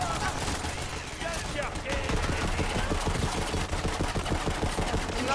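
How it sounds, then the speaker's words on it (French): Rapid automatic gunfire from a small machine gun in the video game Borderlands 3, a loud continuous burst of closely spaced shots lasting several seconds with game effects mixed in. "Petite mitrailleuse, hein."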